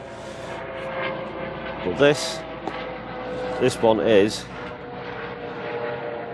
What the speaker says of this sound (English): Excuse the noise, a little helicopter going over.